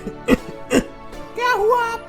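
A couple of short, harsh coughs burst out close by, followed by a person speaking.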